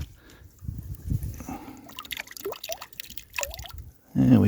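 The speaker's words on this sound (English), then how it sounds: "A good clean. Give it a good rinse." Water sloshes and trickles as a tiny old glass bottle found while mudlarking on a riverbank is rinsed, with short dribbles and splashes and a louder slosh at the end, while someone talks over it.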